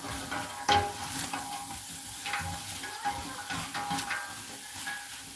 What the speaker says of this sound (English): onions. carrot, garlic, mushrooms, all sauteing